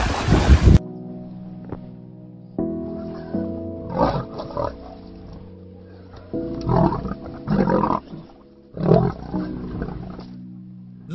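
Lions attacking a buffalo, deep growling roars in repeated bursts of a second or so each, with a sharp loud crack at the start and a low steady drone between them.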